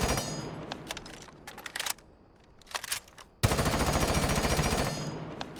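Gun fitted with a muzzle brake firing in Rainbow Six Siege, with short rapid bursts, a pause, then a sustained loud full-auto stream, close and alone.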